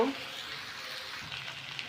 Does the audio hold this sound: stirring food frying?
yes